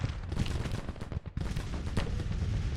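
Civil War infantry musket fire in the strategy game Grand Tactician, Battle of Washington: a dense, continuous crackle of overlapping rifle volleys with a brief lull midway, loud and close.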